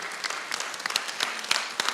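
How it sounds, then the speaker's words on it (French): An audience applauds the award-winning educational games at a presentation, giving a brief run of moderately distant, uneven clapping. "On peut les applaudir."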